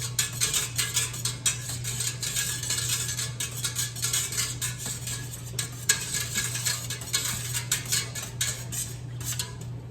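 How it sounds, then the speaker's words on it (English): Utensils stir and scrape steadily in a bowl as yogurt with live cultures is mixed into fresh raw milk, giving a continuous rhythmic clinking and swishing at close range over a low steady hum, with no talking. "I'm stirring it up really, really good to make sure it mixes very well"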